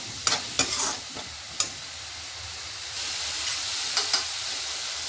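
Chopped onions frying in a pan for homemade pav bhaji, cooking toward light brown, with a steady close sizzle and several sharp scrapes of a spoon stirring through them.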